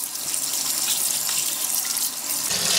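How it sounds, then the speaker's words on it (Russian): Salted mackerel held under cold running tap water, a steady close hiss of the faucet stream splashing over the fish for the whole stretch, with no voices. "Теперь я буду ее промывать под холодной проточной водой, чтобы удалить излишнюю соль с поверхности рыбы и специи."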